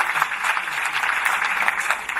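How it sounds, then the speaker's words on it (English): Brief burst of audience applause at a school leadership roundtable event, a steady dense wash of clapping lasting about two seconds with no break in the sound. "I think she deserves a round of applause."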